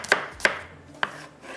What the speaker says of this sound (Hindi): स्लाइस में प्याज कटिंग करेंगे